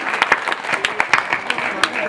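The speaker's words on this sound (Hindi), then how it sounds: "उनके लिए एक बार आप जोरदार तालियां बजा दीजिए" An audience at a Hindi poetry gathering hosted by the Ganesh Seva Samiti bursts into dense, loud applause, with many overlapping claps filling the whole short moment.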